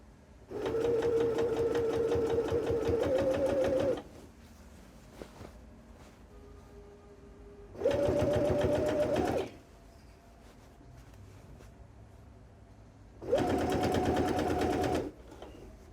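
A sewing machine stitches georgette fabric in three separate runs, each a steady whirring buzz lasting a few seconds with quiet pauses between, heard close and loud.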